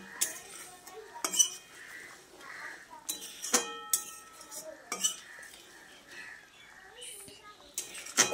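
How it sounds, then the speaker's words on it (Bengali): A spoon stirs paneer into gravy in a cooking pan, making repeated sharp metal clinks and scrapes against the pan in an uneven rhythm, close and fairly clear. "তারপর গ্রেভির সঙ্গে খুব ভালো করে নেড়েচেড়ে মিশিয়ে নিচ্ছি।"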